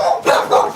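An American Exotic Bully dog gives two loud, close barks in quick succession, alone with no talking.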